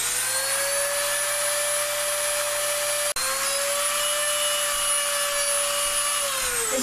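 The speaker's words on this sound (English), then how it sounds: "against my better judgment, we are going to try using a Dremel." A Dremel rotary tool grinds a Mossberg 930 JM Pro shotgun forearm, a close, high steady whine that holds level with one brief break and then dips as the load changes near the end.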